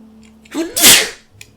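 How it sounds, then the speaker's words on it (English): A single loud sneeze close to the microphone, with a sharp breath in before the burst and quiet right after. "I have to sneeze"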